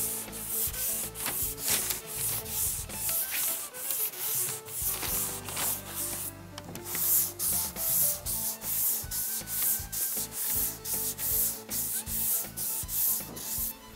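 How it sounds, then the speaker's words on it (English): Steady back-and-forth rasping strokes from a sanding block worked across a car body panel, close and fairly loud, with a brief pause in the middle before the rhythmic passes resume. "if you go ahead and you sand, you block over the panel"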